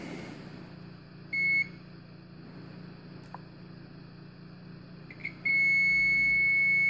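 A multimeter gives a steady electronic continuity tone while probing the fuse of a Clansman PRC-349 radio's AA battery cassette, short beeps near the start and middle and then a sustained tone, over a low mains-like hum.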